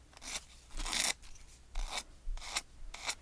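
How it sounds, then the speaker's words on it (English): A nail file rasps against a chipboard piece to strip off its paper, in short scratchy strokes, about five distinct rubs with pauses between, close and fairly quiet. "The nail file just has just enough grit to get that off without sanding down too much of your chipboard piece."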